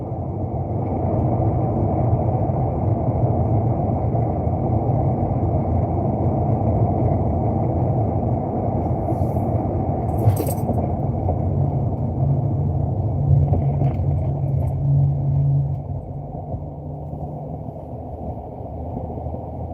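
Car engine while driving, a steady low rumble and drone heard from inside the vehicle, continuous and fairly loud for the whole stretch with no talking.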